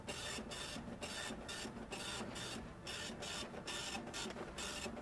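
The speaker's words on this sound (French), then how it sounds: "Grand-mère, ton imprimante elle fume." A printer running with steady mechanical whirring and rhythmic pulsing strokes, repeating evenly and continuously throughout, fairly close and without speech.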